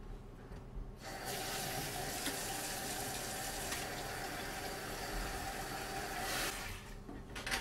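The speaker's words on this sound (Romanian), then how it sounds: "Orezul este fiert. Îl scurgem de apă." Boiled rice drained of its cooking water: a steady, close rush of pouring water that runs without a break for about five seconds, with quieter kitchen sounds before and after.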